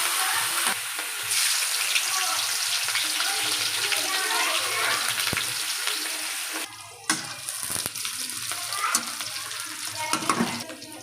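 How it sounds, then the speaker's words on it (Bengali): Cauliflower bhaji sizzles and fries in a pan with ginger-garlic paste, green chillies and onion, a steady crackling hiss broken by stirring clatter, with someone talking over it. "ফুলকপি বাজিটা বসাই দিলাম"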